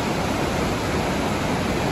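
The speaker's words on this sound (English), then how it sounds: "it sounds like there's some waterfalls over here" Waterfall pouring by Damon Pond in Northern Massachusetts or Southern New Hampshire, heard as a loud, unbroken broadband rush of falling water, close and constant with no voices.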